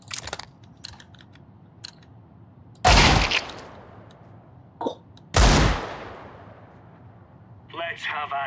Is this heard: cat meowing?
no